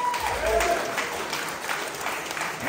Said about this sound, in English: give a round of applause for these two guys